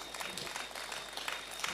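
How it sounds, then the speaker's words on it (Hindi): Applause from a seated audience at a Hindi poetry recital in Beawar, heard as dense, steady clapping that runs fairly quietly through the whole short stretch with no pause. "एक बार जोरदार तालियां अपने लिए"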